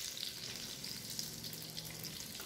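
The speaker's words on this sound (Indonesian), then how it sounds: "Ini goreng sudah sampai kecoklatan." Perkedel, Indonesian fried potato patties, fry in hot oil until browned, giving a steady close sizzle and crackle with no talking.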